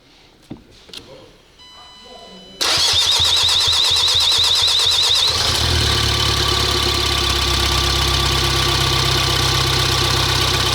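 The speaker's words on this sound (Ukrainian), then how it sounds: "Максим, ти не хочеш мені запустити мотор?" A few clunks and a short crank, then the 1.6 CDTI Bi-Turbo diesel engine of an Opel Vivaro van fires up loudly and settles into a steady, rattling idle close by.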